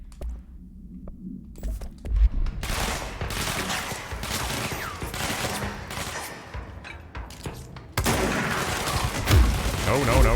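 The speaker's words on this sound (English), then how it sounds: "I'm gonna switch back to the shotgun for now." Shotgun fire in the video game Control, with loud repeated blasts and sharp impacts scattered across the fight against a busy game soundscape, and a voice talking over parts of it.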